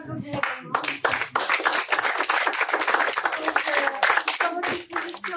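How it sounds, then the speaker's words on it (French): Conference audience at a French talk on circularity and eco-design clapping for the speakers, dense close hand claps with a few individual claps standing out, steady and lively for several seconds. "Merci aussi aux autres intervenants qu'on peut applaudir également."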